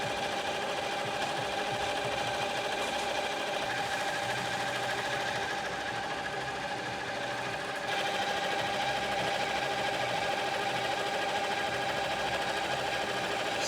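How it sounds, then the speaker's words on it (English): An embroidery machine stitches a fleece travel blanket at 800 stitches a minute, giving a steady, rapid mechanical chatter that runs continuously and close by with no talking. "Machine is embroidering, our technician is changing. He's taking it up to 800 stitches a minute."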